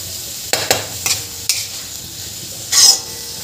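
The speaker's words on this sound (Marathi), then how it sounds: "याला असंच मध्ये छान परतून घ्यायचं आपल्याला आणि भाजी शिजवून घ्यायची पूर्णपणे।" Dill leaves and moong dal bhaji being stir-fried in a pan: a few sharp spatula scrapes and taps over a low sizzle, then one longer hissing stir near the end, close-up with no speech.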